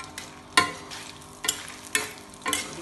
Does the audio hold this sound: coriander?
yes